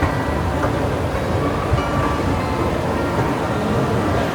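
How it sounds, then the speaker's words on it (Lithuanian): Steady, loud rumble of an Athens metro train running on rails, a continuous roar with rattling and no voices. "Taigi graikiškas metro."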